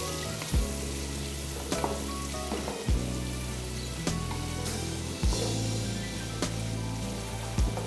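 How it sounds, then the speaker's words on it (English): Onions frying in butter give a steady crackling sizzle, with periodic thumps and scrapes of stirring against the pot, close up and moderately loud, with no talk. "so we stir our onions"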